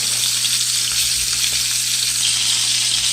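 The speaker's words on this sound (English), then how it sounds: "Let that fish cook" Fish fries loudly in a pan of hot oil, a dense, steady sizzle with close crackling and a low hum underneath, no voices.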